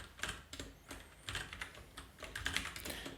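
Computer keyboard being typed on while writing code, quick irregular clusters of soft close key clicks with short pauses, no talking.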